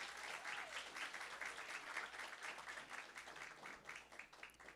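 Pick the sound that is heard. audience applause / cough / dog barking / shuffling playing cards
audience applause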